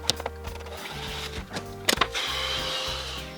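A plastic scraper drags wax off a snowboard base in short rasping strokes, several quick scrapes with brief pauses between, close and fairly loud with no talk.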